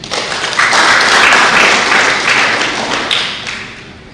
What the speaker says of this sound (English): So once again, clap for him.